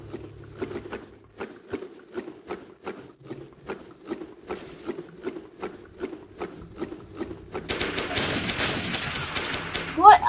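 Rapid gunfire in the online shooter WARMODE, a steady rhythmic burst of shots through most of the stretch before it swells into denser, louder firing near the end.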